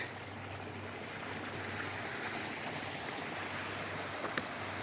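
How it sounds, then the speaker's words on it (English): A small waterfall in a forest grotto in the Talladega National Forest's Cheaha Wilderness rushes in a steady, even broadband wash, moderately near, with no voices. "It's like a little grotto. A little waterfall grotto."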